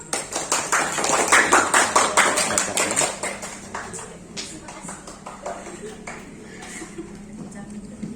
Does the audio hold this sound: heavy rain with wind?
no